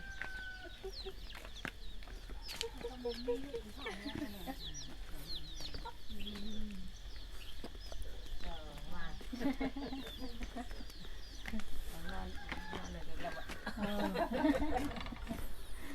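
Chickens cluck and chatter in a rural Thai village yard, with steady overlapping calls, some near and some farther off, over faint background noise.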